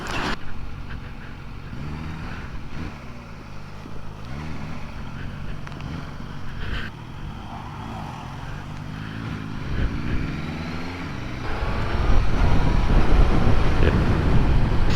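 A Suzuki GSX-1000GT motorcycle engine pulls steadily in fourth gear on a road ride, a continuous droning hum with shifting tones and rushing wind, swelling louder near the end.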